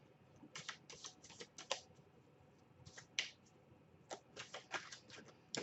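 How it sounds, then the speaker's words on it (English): Cards riffled and shuffled in several quick, crisp bursts separated by short pauses, close and quiet with no talking. "Let's give these cards a good shuffle."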